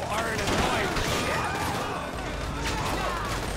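Video game gunfire during a drive-by in GTA 5, a dense, continuous clatter of shots and crashes mixed with engine noise, fairly loud throughout.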